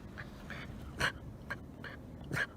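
Geese honking nearby outdoors, a handful of short nasal calls spaced irregularly across a couple of seconds, moderately loud over a soft background hiss.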